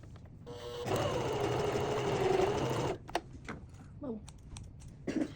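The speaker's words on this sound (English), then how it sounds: "you're gonna sew it across the top so it forms one long piece" A sewing machine stitches a strap for a drawstring bag in a close, steady mechanical whir of about two seconds. It stops abruptly, and then a person talks.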